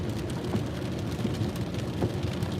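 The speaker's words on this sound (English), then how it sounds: "It's raining." Steady rain falling outside on a Friday while staying indoors, a continuous dense hiss with soft low rumbling underneath and faint scattered patters, even and unbroken throughout.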